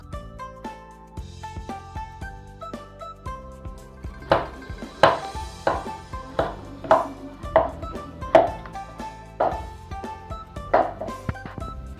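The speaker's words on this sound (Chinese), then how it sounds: "再将青红椒改刀切成长条" A knife chops green and red peppers into strips on a cutting board, sounding as a series of sharp, evenly spaced thuds that grow firmer and more regular midway, with no talk.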